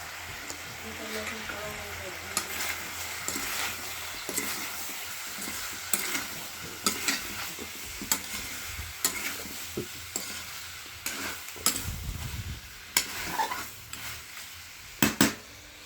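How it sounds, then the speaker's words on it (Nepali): Broiler chicken meat with salt sizzling in a hot pan as it is stirred, a steady close frying hiss broken by repeated spatula scrapes and metal clinks on the pan, with a voice speaking at times. "यसलाई अब ट्याक्क नुन हालेर एकछिन चलाइदिनु पर्यो"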